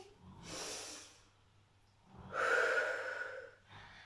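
Two slow, deep breaths during a workout for older adults: a soft airy inhale, a pause, then a longer and louder breathy exhale, close to the mic with no talking.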